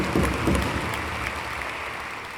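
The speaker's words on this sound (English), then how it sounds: "we can clap at that too." Audience claps at a college convocation ceremony: a loud burst of applause with a few sharp, close claps at the start, then a steady, slowly fading patter.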